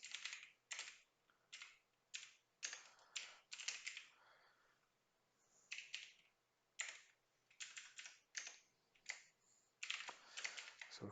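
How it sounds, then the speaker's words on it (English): Rapid clattering keystrokes on a computer keyboard as JavaScript code is typed, coming in quick bursts separated by short pauses, fairly close and clear with no talking. "So I'll just type this in."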